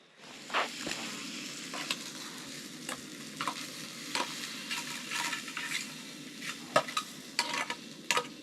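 Sausages sizzle in a pan inside a backcountry camp hut, a steady hiss of frying broken by repeated scrapes and clinks of a utensil stirring and turning them.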